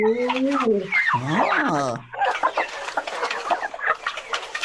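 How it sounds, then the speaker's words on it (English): Chickens cluck and squawk nearby in a busy, overlapping flurry of calls, with rustling and movement around them. "You guys see the chickens? Those are chickens."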